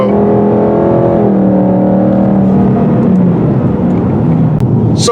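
A 2018 Ford Mustang GT engine revs loud and close, dropping in pitch as the automatic gearbox shifts, then carrying on with a steady drone and no talk.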